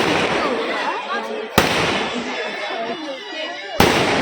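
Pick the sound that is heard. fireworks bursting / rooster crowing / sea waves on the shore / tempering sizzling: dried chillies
fireworks bursting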